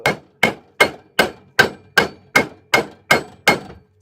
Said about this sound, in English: This is my excuse at forging anyway.